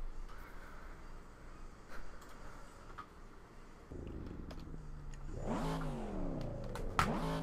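A Mazda Miata in a racing sim, driven on a Fanatec wheel with traction control off, idles low and then revs hard, the engine note sweeping up and down through sharp throttle blips, loud and close.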